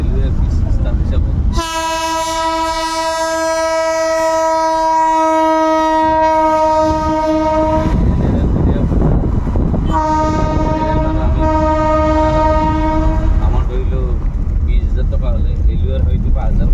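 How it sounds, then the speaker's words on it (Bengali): Long, loud blasts of a train horn at Kamakhya Junction railway station in Assam, one held for about six seconds and a second shorter blast after a pause, over rumbling station and rail noise with people talking nearby. "এটা কামাখ্যা রেলওয়ে স্টেশন"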